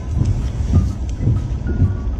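Steady rain falling outdoors at a roadside pickup, a dense low rushing wash with soft periodic thumps, loud and continuous with no talk.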